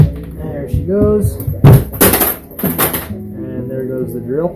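A heavy metallic clatter and thud as a power drill drops during a teardown of a Canon PC921 laser printer copier, a few sharp impacts in quick succession, with a voice talking before and after.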